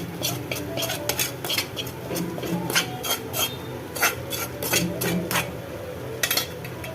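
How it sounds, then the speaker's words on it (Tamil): Banana stem and chana dal are stirred together in a kadai, with a quick, busy run of metallic spoon scrapes and taps against the pan, close and steady, with no talk. "எல்லாத்தையும் நல்லா மிக்ஸ் பண்ணிக்கலாம்"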